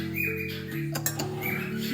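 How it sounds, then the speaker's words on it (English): Pet birds indoors in a kitchen give repeated sharp squawks and chirps, fairly close and moderately loud, with a brief patter of noise in the middle. "listen to my birds"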